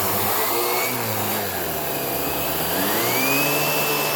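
A Hoover React Professional Pet vacuum runs over pet-hair-covered couch upholstery, giving a loud, steady motor whine and airflow roar whose pitch wavers slightly as the head is worked across the fabric, with no talking.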